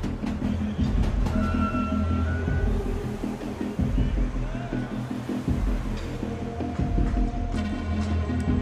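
Steady rumbling of a Rio de Janeiro metro train in motion with rhythmic rail clatter and screeching, continuous and fairly loud throughout, with faint voices underneath.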